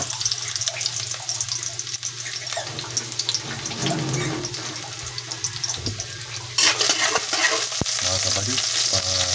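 Garlic frying in a pan toward golden brown: a dense, steady hiss of oil fills the whole stretch, close and loud, with occasional stirring scrapes, a brief knock, and the sizzle swelling louder partway through.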